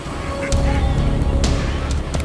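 A duck calls with loud honking cries as a goshawk swoops down and attacks it outdoors, the calls repeating close and harsh over a steady rumble of background noise.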